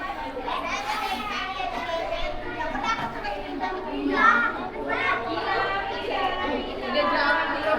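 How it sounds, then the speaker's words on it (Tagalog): Many children chatter, call out and play together inside a busy bookshop during an art workshop, forming a steady, dense crowd of overlapping young voices throughout. "Daming kids."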